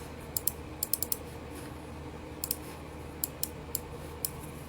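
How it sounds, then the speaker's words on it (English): Short bursts of keys clicked on a computer keyboard, sharp bright taps in small clusters separated by pauses, fairly quiet over a soft background. "Let's type this in."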